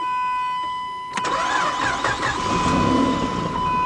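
A 2005 Chrysler 300 with the 2.7 engine, noted for overheating, cranks briefly and catches, then settles into a steady running idle, loud and close, with a constant whine throughout.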